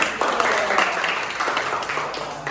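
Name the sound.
class applauding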